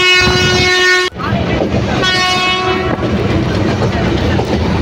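The Bhagirathi Express passes Paglachandi station with a loud, sustained horn blast that cuts off abruptly, a second fainter horn, and a continuous clattering rumble of the moving train throughout.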